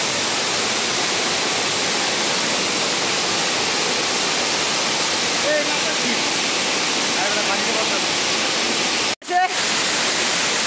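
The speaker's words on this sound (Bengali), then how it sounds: "আমি ছাগলকান্দা ঝর্ণা চলে আসলাম। দেখেন ছাগলকান্দা ঝর্ণা চলে আসছি।" The Chagalkanda waterfall gives off a loud, unbroken broadband roar of falling water that fills the whole stretch, with a brief dropout near the end.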